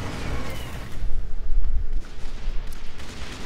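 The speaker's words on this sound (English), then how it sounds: "Put down a few tanks, hide behind them, shoot." Tanks firing in the strategy game Airmech: a steady barrage of booming shots and rumbling blasts, loud and close, with no talking.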